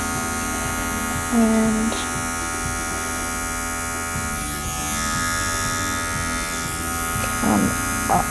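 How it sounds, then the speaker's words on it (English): Electric dog clippers trimming the hair on a poodle's foot give a steady close buzzing hum throughout, with a brief word spoken and small tonal shifts as the blades meet the hair. "take out this small amount of hair through here with our clipper. So I'm going to turn it on."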